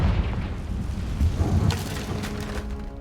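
A Confringo fire spell explodes in Hogwarts Legacy, a heavy rumbling boom with crackling bursts that rolls on and fades out over a few seconds, with no talk over it.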